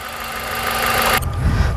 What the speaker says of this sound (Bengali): আমরা ইঞ্জিনের সাউন্ডটা শোনাবো আপনাদেরকে।